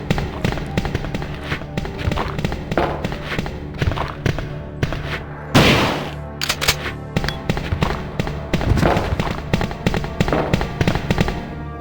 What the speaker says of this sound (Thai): ขอยิงเล่นๆอีกสามนัด